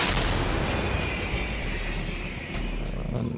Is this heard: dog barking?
no